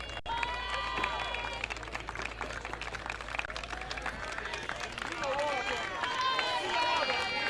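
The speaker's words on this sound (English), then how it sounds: "And a round of applause for the tournament" Steady applause rolls through an outdoor crowd at the Kwibuka T20 cricket tournament final, Tanzania versus Kenya, with scattered cheers and a crowd murmur beneath a continuous low hum.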